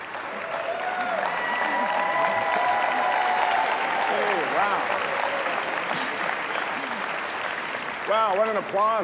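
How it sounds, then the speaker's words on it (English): Applause from an alumni event audience in New York, a broad sustained clapping wash with a speaker's voice and tonal sounds rising over it, then voices again at the end. "Wow, what an applause."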